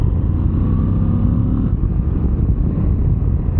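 Moto Guzzi V85 TT motorcycle engine warming up, a steady, close, low rumbling idle with a slight wavering throb, heard alone with some breathy noise.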